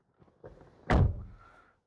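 Door of an MG Gloster SUV swinging shut with a single solid, heavy thunk after a few faint preceding clicks, close and fairly loud, fading quickly to quiet.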